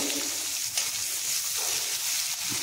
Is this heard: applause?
no